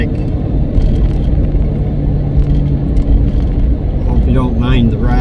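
Car interior on the bumpy road to Hatcher Pass, a loud steady low rumble of tires and engine with jolts throughout, and a voice speaking briefly near the end.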